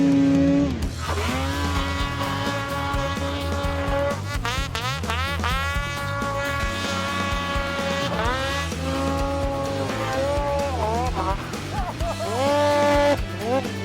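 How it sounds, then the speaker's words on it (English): Snowmobile fitted with an MBRP exhaust running on snow, its engine revving in rising, falling sweeps, loud and close throughout. "And that Boost one sounds a lot like a race sled now."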